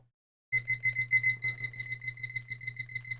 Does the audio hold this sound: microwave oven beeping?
yes